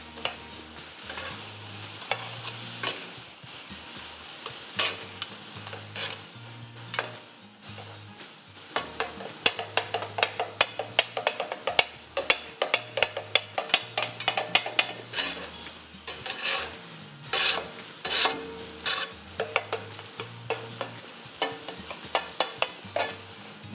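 A fish katakat mixture with spices and garam masala is stirred in a hot pan, giving rapid repeated scraping clatters over a soft sizzle, growing busier midway, with no talk.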